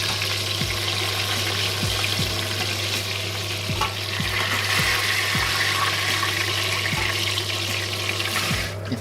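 Eggplant slices sizzling steadily in a frying pan, a loud continuous hiss with occasional soft crackles and pops, some faint clinks as pieces are turned midway.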